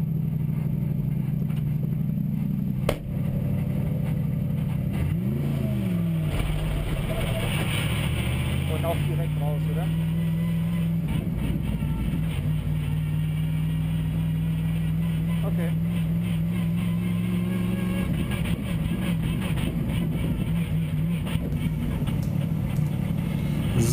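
Mercedes SLS AMG GT3 race car heard onboard from a helmet camera, leaving the pit lane onto the Nordschleife: a loud, droning engine whose pitch climbs and drops through gear changes, with a voice talking over it.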